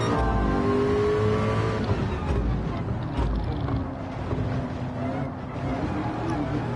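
Race car engine droning loud and steady at Le Mans in a VR racing game, with the pitch rising and falling as the throttle is eased on and off through corners.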